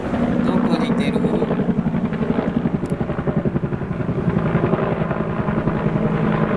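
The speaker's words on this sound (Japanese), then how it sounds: "ヘリコプターの音がしますね。" A Japan Self-Defense Forces helicopter passes overhead outdoors, its rotor producing a loud, steady rhythmic chopping that stays constant throughout, with a person speaking faintly underneath.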